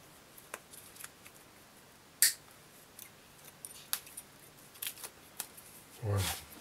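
Scattered sharp snips and clicks come from a cutter or scissors severing the welded cell connections of a 12-volt cordless drill battery pack. Several distinct cuts sound close up and fairly faint, with a short thud near the end.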